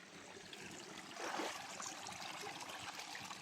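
Stream water runs down from higher ground with a steady, even hiss that swells slightly for a moment. It sounds moderately distant, with no voices.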